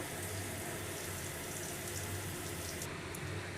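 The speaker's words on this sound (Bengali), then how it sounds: "এই যে আমি গরম জল অ্যাড করে দিচ্ছি" Hot water pours steadily into a pressure cooker holding mutton, a continuous splashing rush without a break, fairly close, with no speech.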